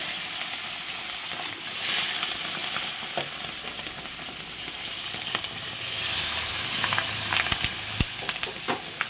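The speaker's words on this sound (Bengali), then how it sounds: "এখন আবার ওই একই তেলে আমার মাছগুলো দিয়ে দিচ্ছি," Large bata fish frying in hot oil that has been reused, a loud continuous sizzle and hiss with crackling pops and spatter that builds toward the end, no speech over it.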